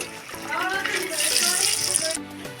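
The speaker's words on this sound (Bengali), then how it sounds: "দেখুন বন্ধুরা, এইভাবে এটাকে ভেজে নিতে হবে।" Rasbora dumplings fry in hot oil with a steady bubbling sizzle, close and fairly loud, as someone speaks over it.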